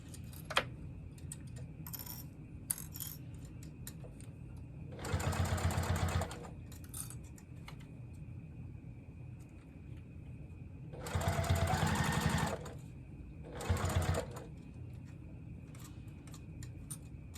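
A sewing machine stitches a wristlet strap in three short, loud bursts of rapid whirring, separated by quiet stretches of small clicks and handling noises.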